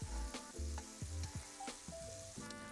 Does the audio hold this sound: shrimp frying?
yes